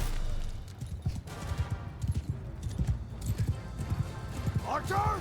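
Horses galloping in a Mount & Blade II Bannerlord battle, steady clip-clop of hooves under battle noise, with a whinny near the end.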